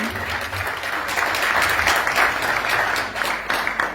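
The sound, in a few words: audience applause at a conference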